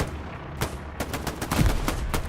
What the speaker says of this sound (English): Nice couple nades being tossed.